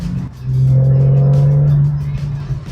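A car with a seven-speed gearbox revs hard while driving, giving a loud, steady engine drone that swells and holds for over a second before easing off. There is a little background chatter.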